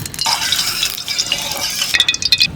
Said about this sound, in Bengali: সরষের তেল,